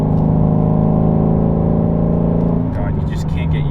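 A 2016 Shelby GT350's engine and exhaust drone steadily while cruising, a continuous, loud harmonic note from inside the car, easing slightly near the end.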